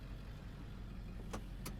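Tuned truck engine running with a steady low rumble, close and fairly quiet, with two brief higher clicks or whines near the end.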